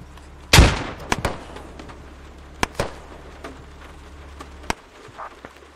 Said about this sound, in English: If you got a frag, toss it up that way.